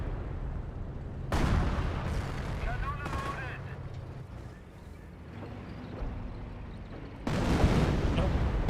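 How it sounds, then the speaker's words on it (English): A creeping artillery barrage in Company of Heroes, a continuous rumble of distant shell impacts and gunfire with heavier bursts of explosions near the start and end, under faint game voices. "Creeping barrage there."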